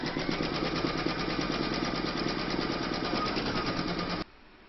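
An embroidery machine stitches a fabric cat coaster with a fast, steady mechanical chatter of rapid needle strokes, close and constant, then stops abruptly near the end.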